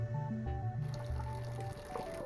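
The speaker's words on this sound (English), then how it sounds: "Remember to wash the dirt and pesticides off your veggies." Water runs and splashes over fresh vegetables as they are rinsed of dirt and pesticides while rat food is prepared, a steady close pour with no talking.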